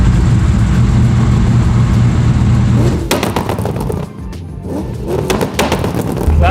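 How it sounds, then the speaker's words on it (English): A BMW M4 drift car's inline-six revs loudly and close, a sustained snarl that breaks into sharp crackling bursts and pops as the throttle comes off and blips again. "Classic inline 6 sound."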